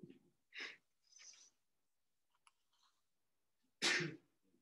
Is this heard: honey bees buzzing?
no